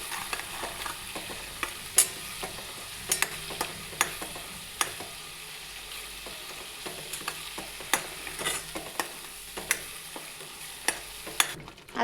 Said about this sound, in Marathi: याला आता छान परतून घ्यायचं. मस्त छान तरण सुटेपर्यंत.